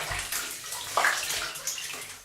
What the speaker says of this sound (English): Now they just gotta get rinsed off in the shower pan water.